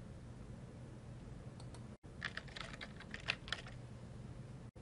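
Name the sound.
typing search words on a computer keyboard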